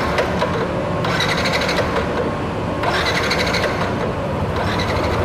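Yamaha NMAX scooter engine idling steadily while its radiator is refilled, a close, continuous mechanical hum with periodic brighter rattling bursts layered over the drone.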